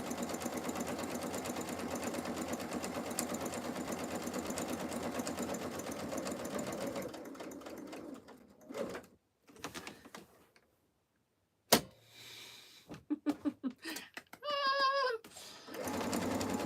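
A sewing machine stitches in long steady runs, then stops and restarts in short bursts with pauses and a few sharp clicks, close and fairly loud.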